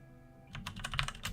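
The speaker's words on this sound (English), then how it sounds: "Oops, that was terrible typing" Quiet typing on a computer keyboard, a quick irregular run of soft key clicks that follows a moment of near silence.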